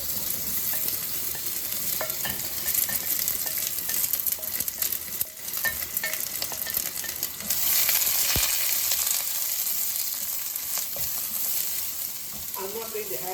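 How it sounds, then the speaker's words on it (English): Onions and green chilies sauté in hot oil for a Sri Lankan Tamil mutton gravy, a continuous sizzle with occasional scraping and stirring of the pan, steady and close throughout. "add the onions and the green chilies and saute them until it's translucent"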